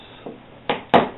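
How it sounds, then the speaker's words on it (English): Three sharp cracking snaps in quick succession, each louder than the last, as factory staples tear free from a Fender Duo Sonic HS guitar's cardboard box close by. "that's the sound of the factory staples letting go"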